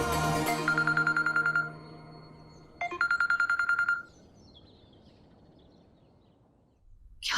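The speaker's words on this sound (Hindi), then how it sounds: "क्या राघव, तू फोन उठाने में कितनी देर करते हो?" A telephone rings in two bursts of rapid electronic trilling, each about a second long, with a quiet pause between them and a faint noisy background.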